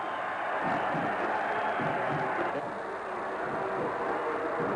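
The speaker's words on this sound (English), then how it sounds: "The crowd loves it." A big college football crowd roars steadily and fills the stadium at the 1992 Colorado versus Oklahoma game, a continuous distant wash of cheering with no clear breaks.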